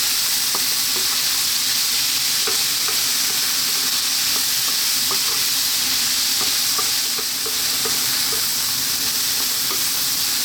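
A yellow pea vegetable stew sizzles loudly in a pan over high heat, a constant frying hiss broken by soft scraping and knocking of a spoon as the ingredients are stirred and kept moving.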